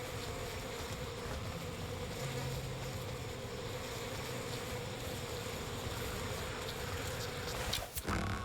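Bees buzz in the video game We Happy Few, a steady, dense droning hum that holds evenly throughout with no talking.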